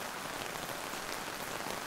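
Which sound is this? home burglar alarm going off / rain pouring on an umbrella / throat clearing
rain pouring on an umbrella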